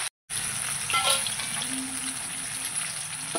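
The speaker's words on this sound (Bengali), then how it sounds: "দুটো করে ভাজবো" Two pomfret fish frying together in hot oil, a continuous close sizzle with small crackles and spatters, starting after a brief silent gap.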